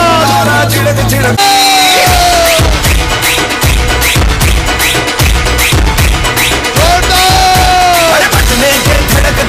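A large indoor audience at a motivational stage event yells, whoops and cheers loudly as a leader is called up, with sustained crowd noise, bangs and musical tones blending into a continuous roar.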